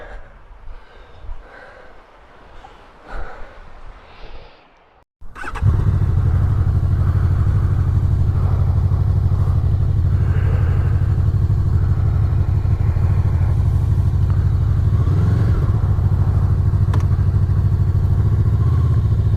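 A Honda VFR800 motorcycle engine starts up after a few seconds of quieter background noise, then settles into a loud, steady idle that runs close by for the rest of the stretch.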